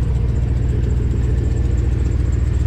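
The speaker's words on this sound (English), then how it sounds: "This hoe got an exhaust leak," A Chevy truck engine with an exhaust leak idles close by in a steady, throbbing low rumble that continues evenly throughout.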